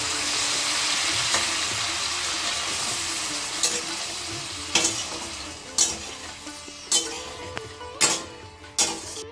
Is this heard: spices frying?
yes